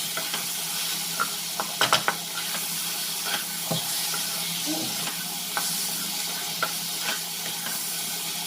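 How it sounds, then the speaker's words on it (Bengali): Chal kumro (ash gourd) with green chilli, salt and spices sizzles and hisses in a pan while being stirred, with scraping spatula knocks scattered over the steady frying. "এবার একসাথে সব কিছু একসাথে কষিয়ে নিচ্ছি"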